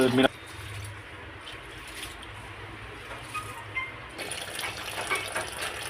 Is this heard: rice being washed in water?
yes